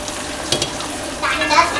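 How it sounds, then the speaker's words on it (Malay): Blended onion paste sautés in a pan for an oil-fried fish curry made without coconut milk, a close sputtering sizzle with a few stirring scrapes and a brief swell of crackling toward the end. "kita tumiskan dia sampailah Naik bau"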